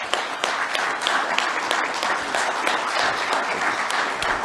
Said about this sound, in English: Can we clap hands for everybody, please?